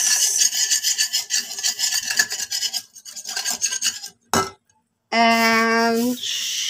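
A spoon scrapes and rubs around a bowl as an ensaladang salad is mixed with kalamansi, repeated rasping strokes followed by a sharp clink and a brief ringing tone near the end.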